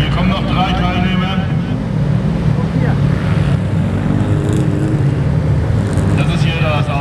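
Race cars at a 24-hour race in Schwerin pass in a steady, loud engine roar with wind buffeting, while a voice is heard over the noise.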